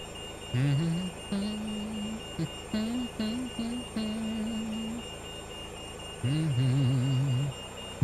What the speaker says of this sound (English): Beep. Beep.